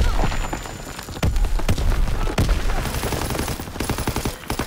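MG42 machine gun fire in Call of Duty WWII on a snowy Carentan map, sharp bursts and shots crackling loud amid other battlefield gunfire, with no voices.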